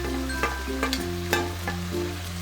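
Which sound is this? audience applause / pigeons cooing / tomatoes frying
tomatoes frying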